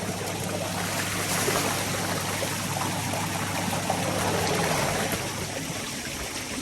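Water gushes steadily from an electric motor pump used for bathing and irrigating seedlings, a loud, continuous rushing stream close by with no talk.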